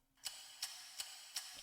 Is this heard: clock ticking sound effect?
yes